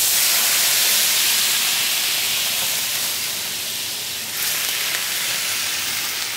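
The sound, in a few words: fish in pan sizzling as deglazed with white wine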